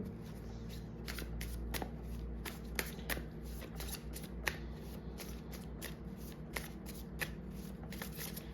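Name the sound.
shuffling tarot cards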